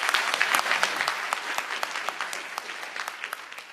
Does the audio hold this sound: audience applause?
yes